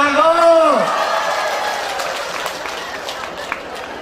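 An audience at an Isra' Mi'raj religious gathering breaks into clapping right after a speaker's voice, the applause filling the hall and slowly thinning out over a few seconds.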